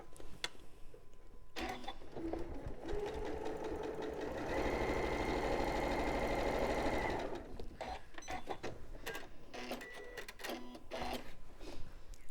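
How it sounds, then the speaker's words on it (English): A sewing machine stitches a pink fabric piece onto quilt work, its needle clattering in a steady, fast, close whir that speeds up to a loud sustained run in the middle, with stop-and-start stitching on either side. "So I'm just going to sew that one on."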